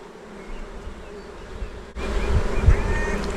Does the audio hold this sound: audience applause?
no